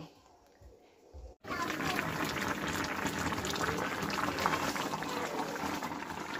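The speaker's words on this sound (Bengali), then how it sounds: "ফুল বলক উঠে গেছে।" A covered pot of water with fish curry ingredients, including potato, brinjal, bori and tomato, comes to a full rolling boil: after a brief quiet start, a sudden dense bubbling hiss sets in and stays loud and steady.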